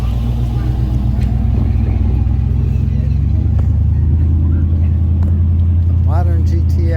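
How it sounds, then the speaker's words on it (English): A Ford Mustang driving uphill at a winter car cruise, a steady deep engine rumble that rises and firms up partway through, with people talking over it. "Mustang up the hill."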